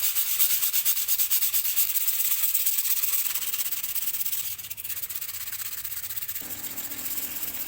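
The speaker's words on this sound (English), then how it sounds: "Now can start to sand. Now I'm using 180 grade." Green foam being sanded by hand with 180 grit sandpaper: steady, close scratchy rubbing strokes that run continuously and loudly without pause.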